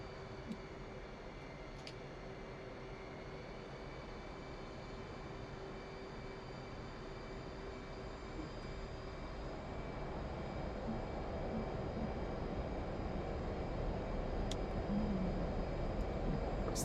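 Low, steady engine roar of an aircraft in the DCS flight game as it rolls down runway 4 at Hata for takeoff, swelling gradually louder over the clip with a faint whine on top.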